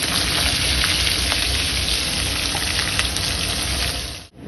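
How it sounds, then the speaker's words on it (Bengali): Black cumin and ajwain seeds hit hot oil for tempering, producing a loud, dense, continuous crackling sizzle close up that cuts off abruptly near the end. "কালো জিরে জোয়ান একসঙ্গে আমি ফোড়ন দিয়ে দিচ্ছি"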